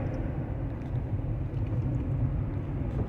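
Steady low rumble inside a moving car, with constant road and engine noise and no voices.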